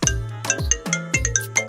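A phone rings for an incoming call, a repeating chime melody of bright tones played loudly and close with no voices.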